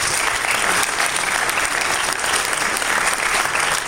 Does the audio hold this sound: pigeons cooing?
no